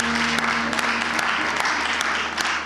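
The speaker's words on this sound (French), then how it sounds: "Joignez vos mains et acclamez" Church congregation applauding and cheering during a worship service, a steady dense wash of clapping with crowd voices mixed in, loud and continuous throughout.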